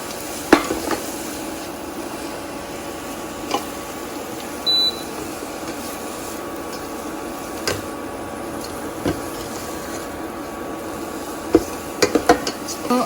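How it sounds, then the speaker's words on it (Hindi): Shredded chicken sautés in masala in a pan, a steady soft sizzle running throughout with occasional clinks and scrapes of a spoon stirring. "तो आपने इसको 2-3 मिनट अच्छी तरह भून लें ताकि मसाले में से स्मेल ना आए किसी किस्म की।"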